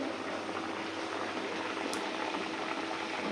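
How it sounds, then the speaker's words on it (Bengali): A pot of poppy seed paste (posto) boils steadily, with a close, even bubbling and hissing that continues without break and with no voices. "এই যেখানে পোস্তটা ফুটিতেছে"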